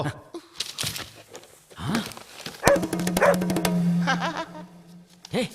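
In a scene from the Tamil film Lesa Lesa, a dog barks a few times nearby, short sharp yelps mixed with people talking over a steady background hum.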